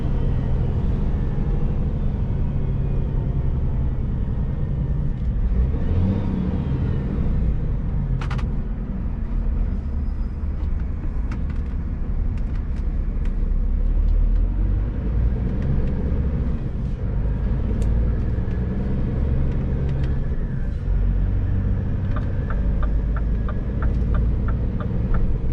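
A Scania G450 truck pulling a trailer drives on the road between Västerås and Stockholm. Its low engine and road rumble holds steady and close the whole time, with no talking.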